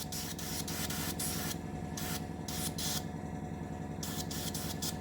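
Airbrush spraying a quick dust coat of primer onto a 1/700 scale plastic model of HMS Hood, a steady close hiss in several bursts with short pauses.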